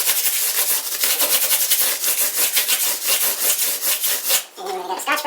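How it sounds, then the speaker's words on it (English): Hand polishing of a worn part from an Epiphone 1959 ES 355 reissue guitar with abrasive pad: fast, continuous back-and-forth rubbing strokes, close and loud, briefly pausing near the end before resuming. "I'm really just going to polish it."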